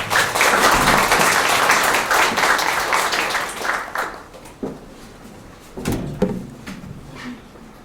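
A burst of applause from an audience at a Korean speech event, loud at first and fading after a few seconds into scattered claps and room noise.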